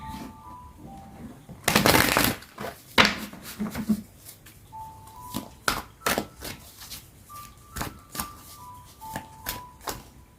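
Tarot cards are shuffled close up, with a loud riffling burst followed by a series of crisp taps and slaps as the deck is handled. Soft chime-like tones ring in the background.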